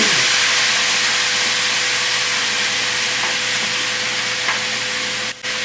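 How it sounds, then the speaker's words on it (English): Vegetables stir-fry together in a pan for gumbo, a loud constant hissing sizzle that runs throughout with a faint low hum beneath and a brief dropout near the end. "I like to put some texture on the veggies by all stir frying them together"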